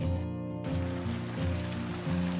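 Heavy rain pours in an animated story, a steady close hiss of falling water that runs the whole time over a low tonal background.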